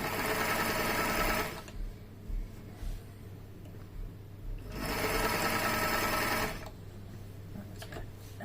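A HandiQuilter Moxie XL quilting machine stitches in two loud, fast-running bursts of about a second and a half each, separated by quieter pauses with faint mechanical clicks and a steady low hum.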